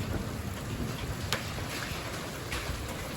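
Rain with small hail about 10 mm across drums steadily on a roof during a storm, a dense even patter with a few sharper ticks and a windy rush behind it.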